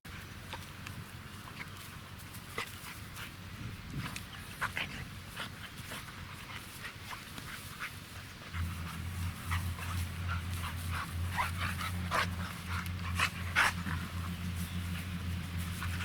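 Two dogs, a male and a female, play together close by, panting with frequent whimpers, yips and scuffling steps, and a low rumbling tone enters midway.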